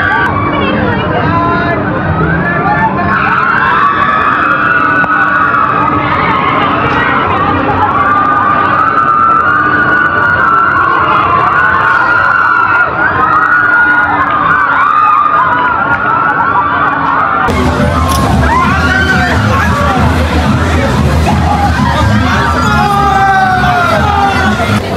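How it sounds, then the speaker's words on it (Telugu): Riders scream and shout continuously on a giant swing ride at Wonderla amusement park, a loud, dense crowd of voices throughout that shifts tone as the swing turns. "ఇంత పెద్ద స్వింగ్ లో కూడా ఫుల్ రౌండ్ తిరుగుతుంది"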